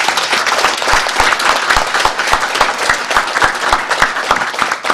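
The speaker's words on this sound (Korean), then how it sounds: "큰 박수로 동의의 뜻을 표현해 주십시오" A large crowd at a welfare-state party proposal convention claps loudly and continuously, a thick, fast patter of many hands filling the hall, with no speech.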